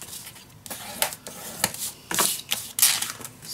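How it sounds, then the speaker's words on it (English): Craft paper for a handmade mini album is folded and creased by hand in a run of crisp, close crackles and sharp rustles, with several distinct snaps spread across a few seconds. "Let me just fold this first."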